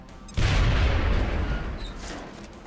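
A grenade detonates in the strategy game XCOM Long War, a single loud, close boom followed by a long rolling roar that slowly fades.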